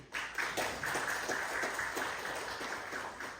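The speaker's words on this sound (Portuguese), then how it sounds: "Queria uma salva de palmas para a Rosângela Rezende." A room of people applauds during an ordinary municipal council session in Itanumã, a steady dense clapping that holds at even loudness from start to finish with no one speaking.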